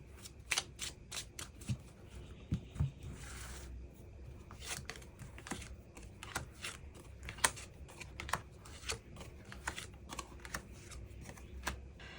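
Tarot cards are shuffled and drawn during a weekly fortune reading, with soft close riffling and a steady patter of card flicks and slaps, quiet and without speech.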